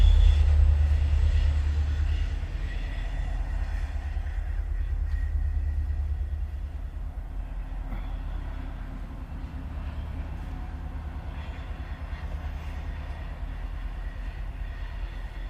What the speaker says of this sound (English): The two NS helper trains heading up the hill to go help another train come down.